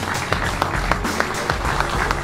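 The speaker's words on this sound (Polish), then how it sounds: "Gromkie brawa." Crowd applause at a Polish catfish angling competition's prize ceremony, a steady dense patter of many hands with sharper claps popping through, fairly close and continuous throughout.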